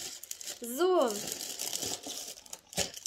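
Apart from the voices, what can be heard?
bag being opened, crinkling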